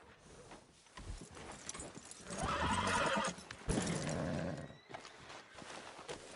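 A horse in Skyrim whinnies and neighs loudly, with clip-clopping hooves and snorting around it, the calls swelling in the middle and trailing off near the end.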